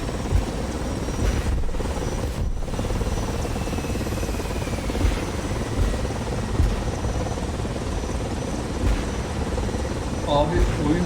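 Helicopters fly overhead in the War Thunder game as a steady, loud rotor and engine drone carries through the whole stretch, with faint game sounds layered on top.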